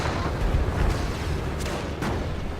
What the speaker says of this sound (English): I got an AT gun up here as well, firing away at these guys.